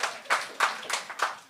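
Audience applause at a Gong Show-style stage performance, a brief burst of rhythmic clapping from several hands, fairly close and short.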